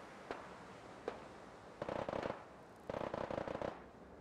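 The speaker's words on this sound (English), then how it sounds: "Oh, gunfire. Where's that coming from?" Distant gunfire in the post-apocalyptic game Fallout 4, a couple of isolated faint shots followed by two rapid crackling bursts of automatic fire, all quiet and far off.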